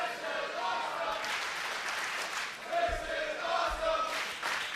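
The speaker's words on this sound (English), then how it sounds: "Chance of this is awesome from this sold-out crowd here live at Full Sail University in Orlando, Florida." A sold-out wrestling crowd at Full Sail University in Orlando, Florida roars and chants in unison with rhythmic clapping, filling the hall, while a commentator talks over it.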